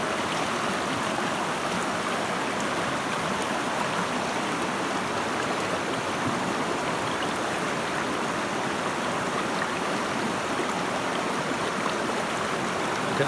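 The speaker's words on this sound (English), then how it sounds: "Get round to the front of the sluice so you can see it working." Stream water rushing steadily through a gold panning sluice outdoors in Scotland, a continuous broadband wash with no pauses, fairly close and alone without talk.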